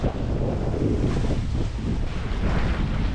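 A sailboat moves fast across open Caribbean sea between St Lucia and Martinique. Loud, steady wind buffets the microphone over a constant rush of water along the hull.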